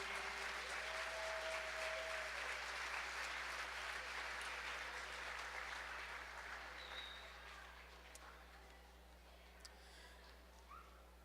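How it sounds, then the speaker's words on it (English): Audience applause at a Hispanic Heritage Celebration, a broad wash of clapping heard from a distance that gradually fades out over several seconds, with a steady low hum beneath. "Give them a round of applause, please."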